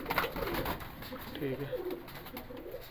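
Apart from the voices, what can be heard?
Seth breed pigeons cooing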